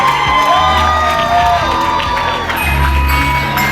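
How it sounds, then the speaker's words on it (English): A crowd cheers and whoops loudly at a live event, with band music playing throughout and shouting voices rising above it; clapping is not distinct. "Start clapping right now."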